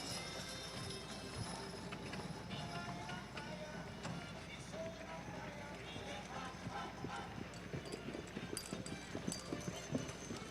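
Hooves of Clydesdale mares in a six-horse hitch clip-clop continuously at a show, a busy rhythmic clatter with jingling harness, set against arena crowd noise and announcer speech.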